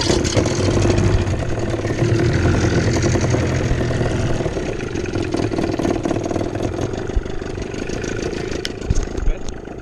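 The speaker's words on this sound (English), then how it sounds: "Turn him up, turn the engine on" A loud, steady boat engine rumbling continuously at close range, its low drone filling the whole stretch without a break.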